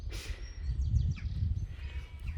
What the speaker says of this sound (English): All you can hear are like the birds.